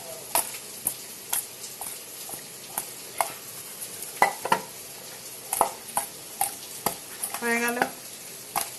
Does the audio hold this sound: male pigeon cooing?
no